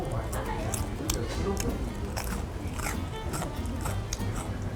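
Repeated crisp crunching bites of a spicy, mala-flavored oil-fried snack, close up, with soft chewing between crunches and a steady background hum.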